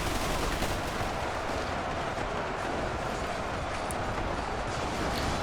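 Stormtrooper blasters fire in Ultimate Epic Battle Simulator, with Warhammer Space Marines also in the battle, as a dense, loud, unbroken barrage of rapid shots and rumbling battle noise layered together, with no talking.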